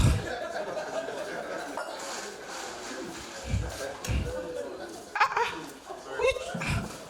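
A dog performing live on stage barks and whimpers in short bursts, mixed with crowd noise and people talking around it.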